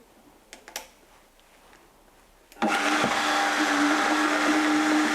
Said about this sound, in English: And now we are blending it.